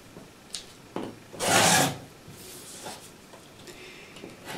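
Edges of a craft piece for an autumn table runner being trimmed: one loud, close rasping cut of about half a second, with a few faint scraping touches before and after and no talk.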